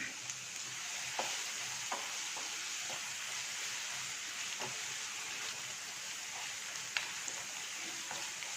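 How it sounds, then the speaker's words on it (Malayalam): Ginger, onion and green chilli being sautéed in a pan, a steady soft sizzle with occasional scrapes and taps of a stirring spoon, fairly quiet and without talk. "നന്നായി ഒന്ന് വഴറ്റിയെടുക്കാം. പച്ചമുളക് കൂടെ ചേർത്ത് കൊടുക്കാം."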